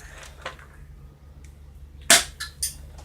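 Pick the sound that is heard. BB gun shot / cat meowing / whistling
BB gun shot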